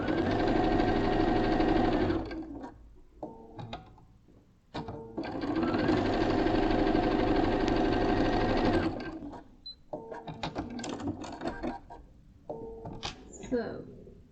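A domestic sewing machine stitches a quilt block in two long steady runs, its motor whirring close and loud, separated by pauses with fabric handling, clunks and someone speaking.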